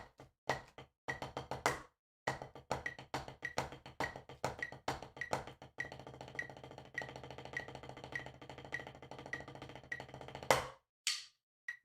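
Close, crisp snare drum strokes run as a rudiment drill that alternates double-stroke diddles with single strokes. A few loose hits come first, then a long fast continuous run, ending with a couple of isolated strikes.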